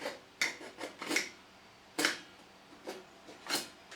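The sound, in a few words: digital caliper scoring a scribe line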